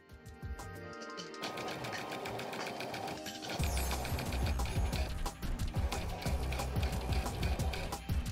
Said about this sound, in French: Et donc je couds jusqu'au bout du côté en consolidant toujours mes coutures.